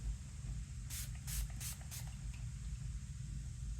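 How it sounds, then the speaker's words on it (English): Four short, quick bursts of fine mist hiss from a spray tan bottle onto a hand over a low, steady background hum. "you can easily spray this on your hand"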